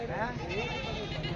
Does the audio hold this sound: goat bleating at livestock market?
yes